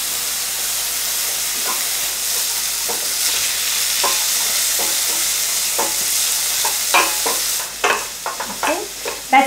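Broad beans frying for a risotto primavera, stirred in a pan with a loud continuous hiss and sizzle and frequent scraping stirs, busier clatter near the end.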